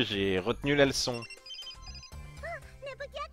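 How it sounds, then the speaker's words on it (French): A phone rings in the video game Hyperdimension Neptunia Re;Birth2, heard as a short run of bright, repeating chirpy tones that follow a stretch of speech. "Ah, c'est le téléphone de Nepegear."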